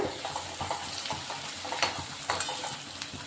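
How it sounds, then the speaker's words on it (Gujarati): Onions sautéing in a pan for a chapdi tavo curry, with a steady sizzle and repeated scraping strokes of a spoon stirring them at close range, no voices. "આપણી ડુંગળી સતળાઈ ગઈ છે"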